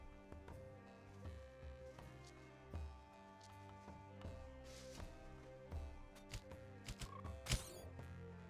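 Frogs croak repeatedly in a game soundscape, a dense chorus of rhythmic low croaks and creaky calls layered over a steady tonal background, with a sharper burst near the end.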